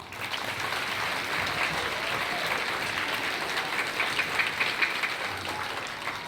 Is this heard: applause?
yes